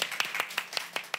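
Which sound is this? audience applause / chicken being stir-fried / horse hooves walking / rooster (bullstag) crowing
audience applause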